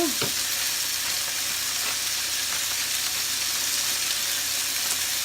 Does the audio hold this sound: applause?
no